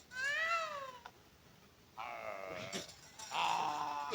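A performer in a Javanese comedic stage show imitates a female cat's meow, giving three drawn-out, wavering meow-like calls separated by short pauses, fairly clear against a quiet background.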